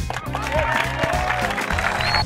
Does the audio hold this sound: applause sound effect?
yes